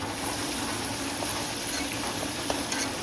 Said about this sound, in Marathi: कांदो भाजून झाल्यानंतर त्याच्यात आपण टाकतो टोमॅटो